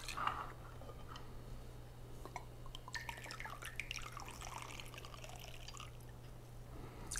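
Whistlepig 6-year Piggyback Rye, a 100% rye whiskey at 96.56 proof, is measured out as two ounces through a bottle pourer: a quiet, steady trickle with a few faint drips, with no talking.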